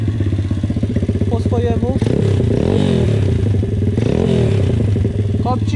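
An MRF 140RC motorcycle engine idles steadily after repair with its carburetor readjusted, running loud and continuous with a few brief revs, while someone talks over it.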